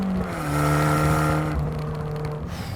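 Four-cylinder engine of an Abarth 595 Competizione hot hatch, a steady mid-volume drone with clear harmonic tones that rise and then ease off as the revs change.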